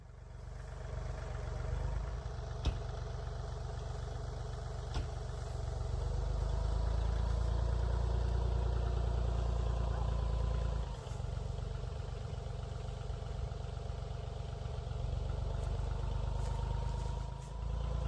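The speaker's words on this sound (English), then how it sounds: "we'll use the tractor to break that apart" A heavy tractor engine rumbles steadily at idle throughout, a low constant drone with a couple of brief clicks and knocks, no talking.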